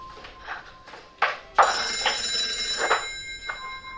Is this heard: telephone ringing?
yes